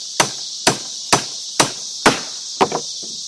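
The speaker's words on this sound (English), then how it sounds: "And that's how you get the nails into the wood." A hammer drives nails into wood at a treehouse build, six sharp, evenly spaced strikes about half a second apart. Each is loud and close, with a short ring, and the last has a quick double tap.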